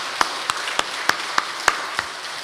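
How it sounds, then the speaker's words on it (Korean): A church congregation at a Sunday morning worship service claps together in unison. There are about eight sharp, evenly spaced claps at a brisk, steady rhythm over a soft room background. "감사와 영광의 박수 같이 드리겠습니다"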